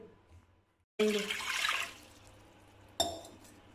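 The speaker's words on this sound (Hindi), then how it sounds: "अब ये हम पानी, ये 1 गिलास पानी डालेंगे।" A glass of water tipped into a cooking pot during spice preparation, a sudden splashing pour lasting about a second, then a brief second splash, close and clear with no talk.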